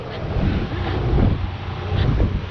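Steady wind buffeting the microphone on a sailing boat motoring at sea off Spurn Point, with a broad continuous rush and low rumble, fairly loud and unbroken, wind coming head-on with no voices.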